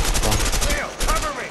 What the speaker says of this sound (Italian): Questo fucile sembra che spara popcorn, non serve.